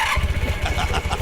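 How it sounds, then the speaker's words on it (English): A motorcycle engine charging in from a distance gives a rhythmic, pulsing putter of moderate loudness, with regular throbbing beats that continue without any other sound. "you hear this motorcycle charging in from quite a distance towards this"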